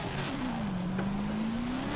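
A car drifting in Forza Horizon 5 holds a steady high engine note, the revs dipping then climbing slightly over two seconds, a lone moderately loud drone with no talk.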